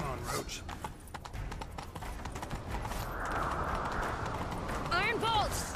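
Hooves of Roach, a galloping horse in The Witcher 3: Wild Hunt, beat in a quick, steady rhythm under the game's soundscape, with a brief vocal call near the end.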